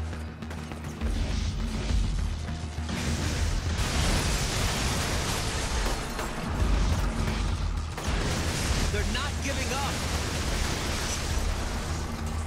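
Loud, dense explosions and crashing blasts in the video game Infamous, rumbling continuously with bursts and debris-like pops over about twelve seconds, no speech.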